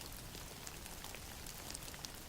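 Steady, faint rain patters on a surface as a soft continuous hiss with scattered tiny drop ticks, unbroken and even throughout.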